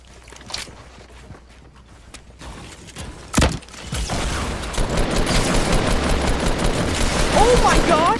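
Rapid bursts of gunfire in Fortnite on PC, with a loud single shot and busy rattling, action-filled game sound building toward the end.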